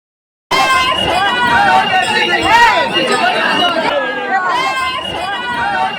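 Dense chatter of a pilgrim crowd at a Ayodhya temple, many overlapping voices forming a steady, close babble that fills the whole stretch.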